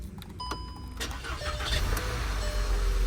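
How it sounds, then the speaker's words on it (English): A Volkswagen car engine starting with a blade key and fob turned in the ignition: a few faint clicks and a brief starter whir, then the engine catches and settles into a steady, loud idle up close. "inserting this blade and using this fob to turn it should start the vehicle"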